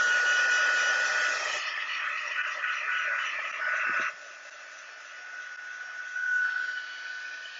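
A heat tool blows over alcohol ink on a window sheet, a steady close whooshing hiss with its tone and loudness shifting as it moves, no talking.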